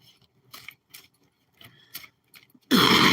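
Tarot cards are shuffled in several light, papery bursts, then a sudden loud rush of noise at the end.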